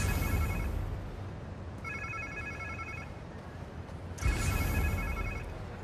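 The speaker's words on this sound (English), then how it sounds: "Sounds like somebody's phone." Phone ringtone in Marvel's Spider-Man 2, three bursts of a trilling electronic ring separated by short pauses, fairly faint over a low ambient game rumble.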